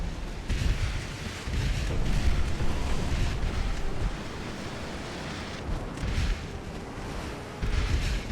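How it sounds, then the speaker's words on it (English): A delayed torpedo detonating against a warship in the naval strategy game Ultimate Admiral: Dreadnoughts, heard as a deep, sustained rumbling blast with roiling low-end surges that swell again near the end, loud and continuous with no talk. "Delayed torpedo. That wasn't the target it was aimed at, but boy, did it actually hit home for once."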